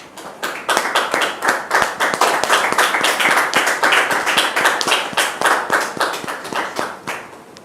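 A studio audience on a French-language talk show claps steadily to welcome a guest, the dense, rhythmic applause swelling quickly and holding strong before tapering off near the end.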